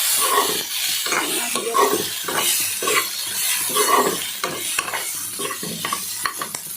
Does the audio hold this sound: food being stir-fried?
yes